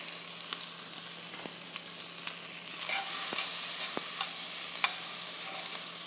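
Shallot, apple, fennel, thyme and garlic sautéing in a pan, giving a steady close sizzle with scattered stirring clicks and scrapes throughout, no talking.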